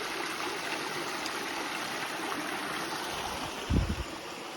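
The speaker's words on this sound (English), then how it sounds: "Look at that, we got a little mini waterfall there. Beautiful, beautiful creek here." A creek spills over a small waterfall on a nature trail, giving a continuous, full rushing wash of water. A brief low thump sounds near the end.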